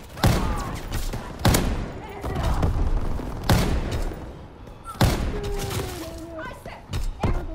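Gunfire in the World War II shooter Call of Duty: WWII: heavy single shots and booms land every second or so amid battle noise, with voices talking over the action.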